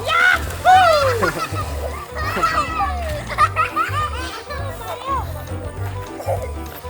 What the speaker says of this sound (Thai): นี่นะครับทุกคนเล่นน้ำแล้ว